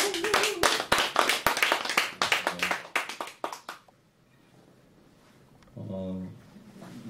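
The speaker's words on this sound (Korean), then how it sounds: "가수에게 박수로서 보여드리도록 하겠습니다." An audience at a literary talk show clapping for a singer gives a few seconds of sharp, close, uneven hand claps that thin out and stop, followed by quiet room tone and a brief voice.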